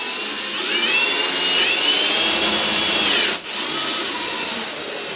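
Power drill boring a hole for mounting LED tube lights in a garage, a loud close whine that rises and holds for several seconds, briefly drops off, then continues at a steady pitch.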